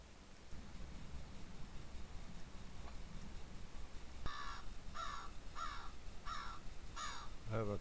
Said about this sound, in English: I have a crow.